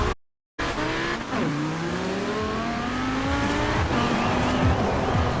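Porsche 928 GTS launching in Forza Horizon 4, engine revving and rising through gears with tire squeal, a loud continuous drive with shifting pitch sweeps and no talk.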